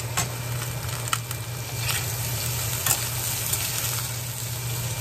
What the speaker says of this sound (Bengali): আলুগুলো হালকা ফ্রাই হওয়ার পর এবার মুলোগুলো অ্যাড করে দেব।